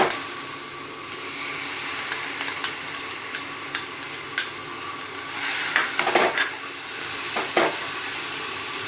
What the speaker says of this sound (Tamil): ஃபஸ்ட்டு மிளகா, கருவேப்பிலை போட்டு கொஞ்சம் வதக்குங்க